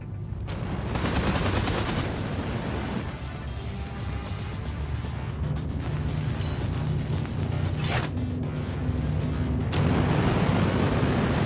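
Spaceship turrets firing in Everspace 2, a dense, continuous stream of rapid shots with mechanical rumble, loud and sustained throughout.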